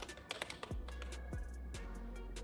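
Computer keyboard typing while entering text in an HTML editor, a few quick irregular key clicks with low thumps, fairly quiet and close.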